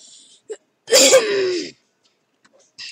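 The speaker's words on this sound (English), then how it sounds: "sorry about my throat and coughing." A person clears their throat with a short burst, then a longer raspy throat-clearing cough, isolated in otherwise quiet surroundings.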